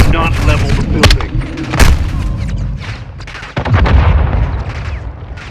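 Artillery striking a building during a firefight in Call of Duty Modern Warfare 2, with loud deep booms and rumbling blasts, scattered gunfire cracks and continuous battle noise, mixed with game voices.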